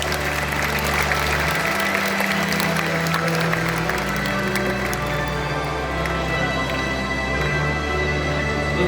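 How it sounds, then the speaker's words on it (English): Spectators at a raptor and scavenger bird show at Bird Paradise Singapore applaud, a dense wash of clapping that carries over a loud, steady bed of music. "Let's give them a big round of applause."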